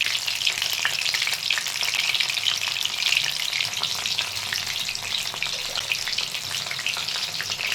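Coated mushrooms for mushroom Manchurian frying piece by piece in hot oil, a steady dense sizzle with crackling bubbles that stays loud and even throughout, with no talking.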